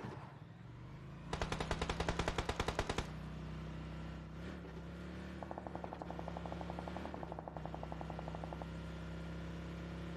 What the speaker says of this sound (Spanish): Escuché que habían disparos por aquí